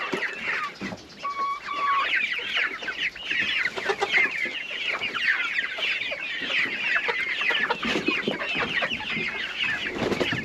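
Rhode Island White chickens on a farm cluck and chatter continuously at close range, a busy overlapping flock sound with occasional higher squawks.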